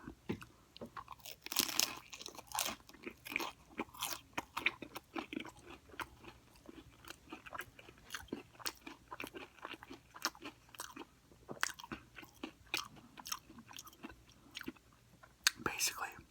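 Crunchy Old El Paso taco shells filled with seasoned ground beef are bitten and chewed close up, giving steady loud crunches and crackles with soft mouth sounds throughout, alone without talk.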